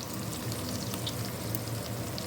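Onions and lamb meat sizzle and fry in a pot, a steady close crackling hiss with no talking.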